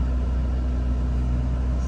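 A 2023 Chevrolet Corvette C8 Z06 driving, with a steady, low engine and exhaust drone heard from inside the car, even and continuous throughout.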